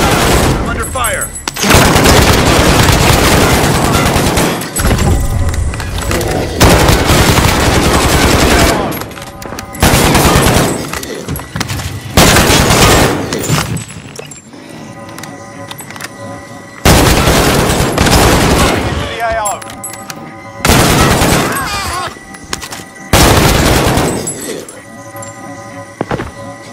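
Gunfire in the Call of Duty Warzone game, loud sustained automatic bursts repeating in long stretches with brief gaps, close and dominant, with faint game voices between bursts.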